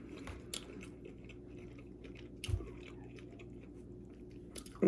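Soft, close chewing of crab meat from a spicy seafood boil, quiet wet bites and mastication spread across a few seconds, with a couple of slightly louder crunchy moments and no talking.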